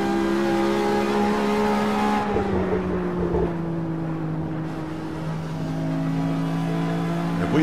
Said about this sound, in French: Alors de l'extérieur, le bruit que ça fait.